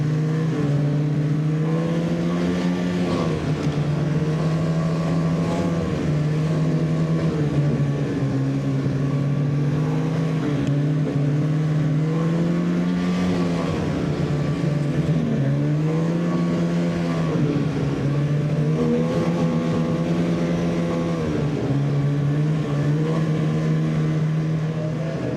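A Ski-Doo Freeride 800 snowmobile rides an early-season trail, its engine droning loud and close throughout with steady harmonic tone rising and falling as the throttle shifts.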